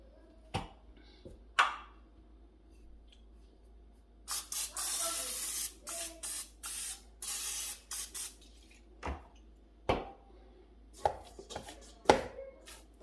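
Oil spray misted onto homemade bread dough, several short hissing bursts from a spray can, close and crisp, separated by quiet pauses and a few light knocks.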